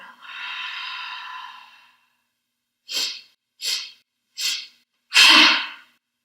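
Breath of joy exercise: a long, steady breathy inhale through the mouth lasting over a second, followed by three short sharp puffed breaths and a final strong exhale, close and alone.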